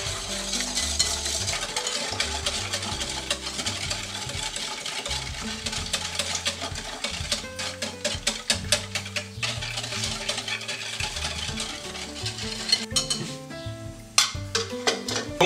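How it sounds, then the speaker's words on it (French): Milk and cream mixture being stirred into a crème brûlée base, a steady wet scraping and swishing with light utensil clinks against the bowl, close and continuous with no talking. "Et on va incorporer notre mélange de lait et de crème."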